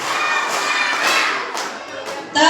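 A class of elementary schoolchildren at an Isra Mi'raj commemoration claps a counted three-beat pattern: a run of sharp, closely spaced group claps, loud and roomy, with a few voices mixed in.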